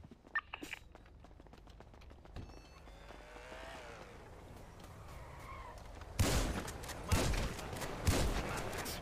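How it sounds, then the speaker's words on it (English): Shotgun blasts in a GTA roleplay video game: a few sharp, booming shots land early, then game noise and engine drone build until a loud, harsh burst of gunfire and crashing near the end, with no speech. "I hit him with a shotgun"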